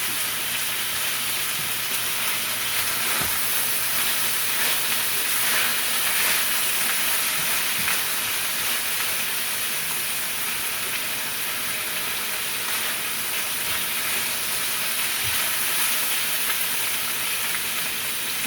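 Green beans with ginger sizzle in a hot pan with a continuous, close frying hiss that stays steady across the whole stretch, with occasional soft stirring knocks.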